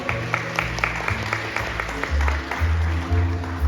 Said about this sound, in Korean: 박수 보내주시면 감사하겠습니다.